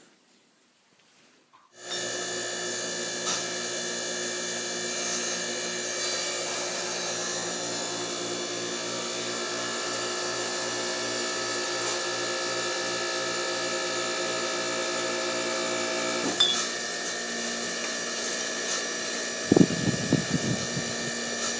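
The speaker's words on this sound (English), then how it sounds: "I think I'm going to go ahead and give it a test run just to see if it even squishes anything" A portable hydraulic press on a test run starts up after a brief silence and then hums at a steady, loud level with tonal whine and a few clanks near the end, with no talk.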